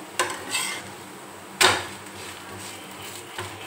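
Egg pieces for breakfast frying in a pan are turned side to side, with a few sharp utensil knocks against the pan over a faint, low sizzle.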